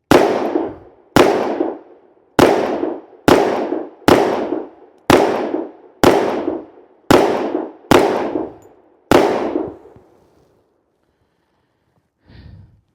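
An FN 510 pistol fires ten loud, sharp shots at a steady pace of about one per second from a 15-round magazine, each with a ringing outdoor echo, then silence and a faint clink.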